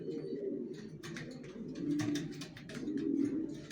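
Racing pigeons coo steadily in a loft, low murmuring calls overlapping continuously at moderate volume with faint chirps and rustle in the background.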